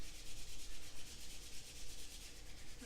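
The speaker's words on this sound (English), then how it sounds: "bring our hands together and we'll just rub them together, creating a little bit of heat" Hands rub together briskly during a yoga flow, a steady dry friction swish that holds close and fairly quiet for about three seconds with no talking.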